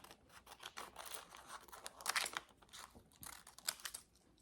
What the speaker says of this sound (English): So I'm going to just cut this out.